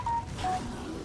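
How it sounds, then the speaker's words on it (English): A brief, faint electronic telephone tone beeping in the background of Darksiders gameplay, three short pitched blips over a low hum. "Sorry about the phone in the background."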